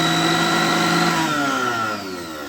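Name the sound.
electric mixer grinder running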